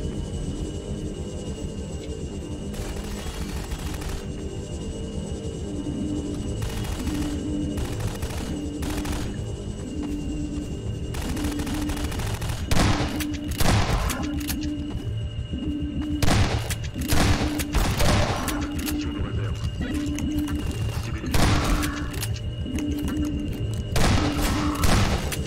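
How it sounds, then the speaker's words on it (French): Rapid video game gunfire aimed at the player: sustained volleys of automatic shots crackle for most of the clip, heavier bursts and thuds recurring every few seconds over a low steady hum. "il me tire dessus"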